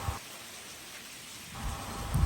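Rain falls during a boat trip to Rabbit Island off Cambodia, a steady close hiss of drops with low rumbling gusts that swell at the start and end; no voices.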